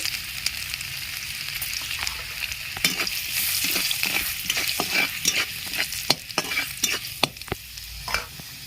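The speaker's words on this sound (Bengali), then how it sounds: "কড়াইয়ের তেল গরম হয়ে গেছে রসুন আর আদা কুচি তেলে দিয়ে দিচ্ছি" Chopped garlic and ginger frying in hot white oil in a wok for chicken soup: a steady close sizzle under a rapid series of sharp spatula scrapes and taps against the metal, with no voices.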